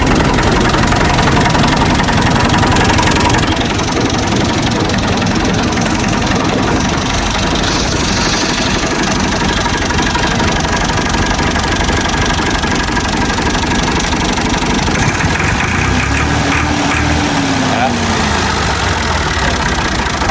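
A Massey Ferguson 260 tractor engine runs steadily at idle, a continuous close mechanical rumble with a knocking texture and no voices over it for the whole stretch.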